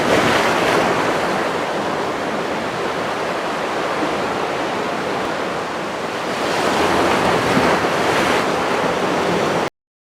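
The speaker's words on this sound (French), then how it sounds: "Pensez au bruit profond produit par le ressac de la mer." Deep, rolling sea surf breaks continuously, with a loud, steady wash of waves swelling slightly toward the end; no voices are present.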